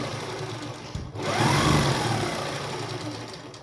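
A sewing machine stitches a salwar cuff, its motor starting after a brief pause and then whirring steadily at close range with a mechanical hum and light rattle.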